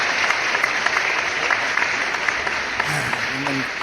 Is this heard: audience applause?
yes